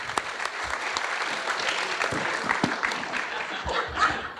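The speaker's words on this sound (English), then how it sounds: "Big round of applause." A crowd claps steadily for several seconds, dense and close, with a few light chuckles mixed in.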